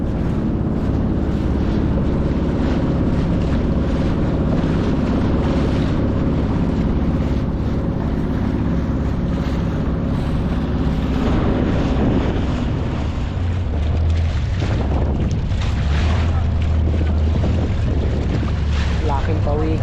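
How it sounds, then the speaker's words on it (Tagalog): Steady northeast monsoon wind (amihan) blows at sea, a constant roaring rush with microphone buffeting and a low boat or wave rumble that swells toward the end. "Ihip ng amihan"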